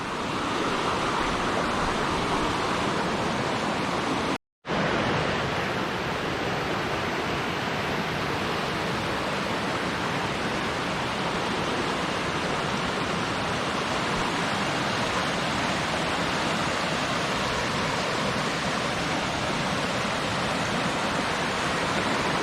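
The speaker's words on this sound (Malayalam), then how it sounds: "അരുവി പോലത്തെ ഒരു സെറ്റപ്പ് ഉണ്ട് കേട്ടോ" A forest stream at Mamalakandam in Ernakulam flows with a steady, close, full rushing wash that continues alone throughout, apart from one brief dropout.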